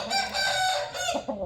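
A rooster called Atak Wala, bought at Atak, crows loudly at close range, its long harmonic call running through most of the moment before a few short clucks at the end.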